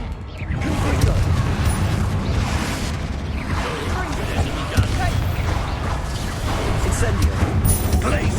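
In Hogwarts Legacy combat, Confringo blasting spells burst in repeated booming explosions with whooshing casts, loud and dense, layered over battle noise and voices.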